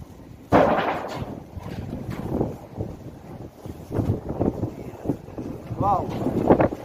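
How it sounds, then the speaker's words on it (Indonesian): Strong wind buffets a small fishing boat at sea, a rough continuous rush and microphone rumble under intermittent voices talking nearby. "anginnya sangat kencang"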